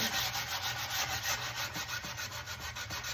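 Sandpaper rubs paint off the edges of an old wooden sewing table drawer, a loud, close, continuous scratchy back-and-forth rasp in quick strokes with no talk.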